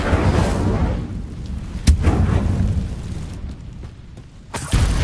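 A fire spell cast in a PS4 video game lands as a loud booming burst with explosive crackle, followed by sustained roaring rumble and a second sharp blast near the end.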